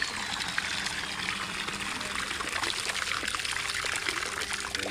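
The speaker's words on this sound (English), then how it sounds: "release your thumb. And that powerful suction will draw all the debris into the debris chamber." Water and pool debris are drawn by strong suction into the debris chamber of a Paradise Spa Vac, a continuous rushing, gurgling pour that holds steady and loud throughout, with no talk.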